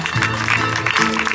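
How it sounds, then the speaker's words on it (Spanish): Audience applause at a Peruvian tribute concert, a burst of lively clapping from the crowd mixed with voices and a sustained musical tone underneath. "Venga, las palmas, el aplauso."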